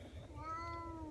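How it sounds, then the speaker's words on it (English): A cat cries with drawn-out meows inside a car during a wildfire evacuation, the harmonic wails rising and falling close by over a low engine rumble. "I'm sorry for my cat. You can hear her crying."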